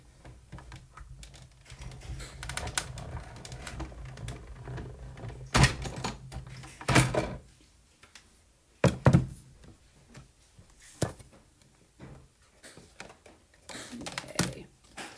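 A card cranked through a manual embossing machine with plate 4: a series of loud hollow thunks and clacks at irregular intervals over a low steady rumble, fairly close and alone without talk.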